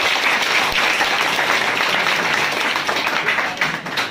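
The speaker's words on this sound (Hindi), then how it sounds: "तो क्या एक बार आभास और ऋतुराज के लिए जोरदार ताली बजाई जाए" A live audience applauds loudly for Abhas and Rituraj at a gathering celebrating friends' railway exam results, a dense, steady wash of clapping that holds for the whole stretch without talk.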